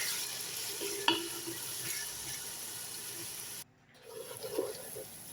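Eggplant fries and browns in a pan with a steady close sizzle and occasional stirring clicks, broken by a brief dropout before the frying noise resumes.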